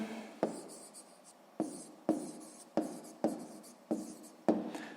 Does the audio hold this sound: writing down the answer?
yes